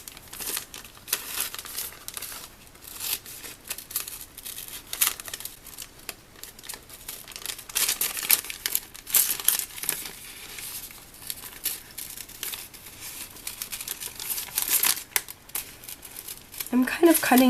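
Scissors snipping through washi tape and paper while making a circle in a notebook, a series of close, crisp crinkly cuts and rustles, with talking over parts of it.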